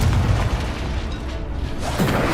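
A booming fiery spell blast from the Incendio charm in a Hogwarts game, a loud dense burst of roar and crackle filling the whole moment with a second swell near the end.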